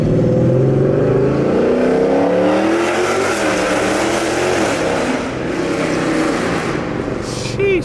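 A 448ci stroker V8 in a Dodge Challenger Scat Pack running E85 revs hard and loud up close, a deep rumbling roar rising and falling with a choppy cammed idle.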